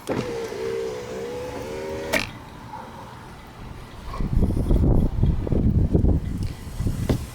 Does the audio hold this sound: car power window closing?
yes